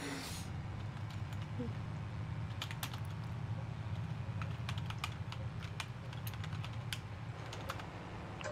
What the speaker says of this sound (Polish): Ale masz fajną klawiaturę, przyjacielu. Taką niesłyszalną. Membranowa.